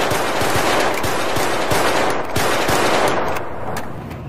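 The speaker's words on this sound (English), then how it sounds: "Reports of gunfire?" Rapid automatic gunfire from a modded Grand Theft Auto game, loud and continuous with dense repeated shots throughout, tapering slightly at the end; no talking.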